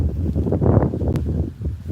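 Gusty wind blows at a fishing spot, a steady low rumble buffeting the microphone with no one speaking.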